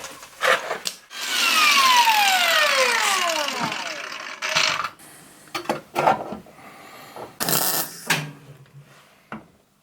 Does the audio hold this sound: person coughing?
no